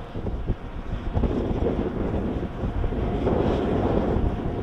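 Strong wind buffeting the microphone outdoors near a wind turbine at a school, a loud, continuous low rumble and roar with gusty swells and no talking.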